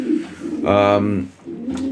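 A breeding pigeon coos once in a loft, a low rolling call rising out of the middle of the moment, with someone talking before and after it.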